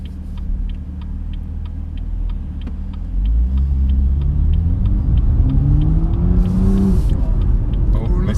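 A BMW M2 engine rumbles and then revs hard as the car accelerates, its pitch climbing steadily and rising in loudness partway through, with a rapid ticking running throughout and people talking over it.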